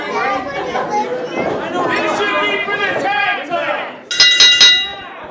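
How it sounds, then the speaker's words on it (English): A wrestling crowd at a Maine State Posse versus InZanely Rude match chatters and cheers as wrestlers enter the ring, a loud continuous babble of many voices ending in a sharper burst of shouts. "Crowd certainly interested and involved in this one."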